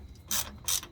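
Ratchet wrench loosening bolts on a farm truck, two short bursts of rapid clicking close up, separated by a brief pause.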